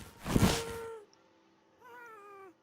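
Two soft, cat-like mewing calls from a happy ghast in Minecraft, the first longer and breathier, the second a short plaintive meow after a brief pause.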